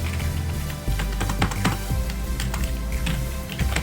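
Typing on a computer keyboard in WordPad, with fast irregular clicking keystrokes close up and fairly loud over a steady low background hum, with no talking.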